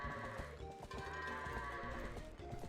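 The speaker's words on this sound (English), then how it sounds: "This sure is a goat." Goat bleating in a Twilight Princess any% speedrun game, a loud sustained bleat over dense game music and effects filling the whole short stretch.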